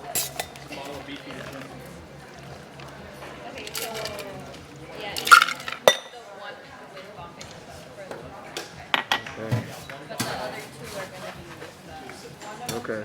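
A Mai Tai is shaken with ice in a hotel bar, giving a run of clinking and rattling ice and metal strikes, loud bursts mixed with softer clatter under low background noise.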